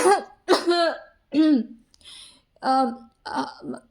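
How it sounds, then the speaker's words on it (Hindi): Loud, repeated coughing in a series of harsh bursts, close up, with a strained voice between coughs. "ज़ोर ज़ोर से खांसते हुए कहती है"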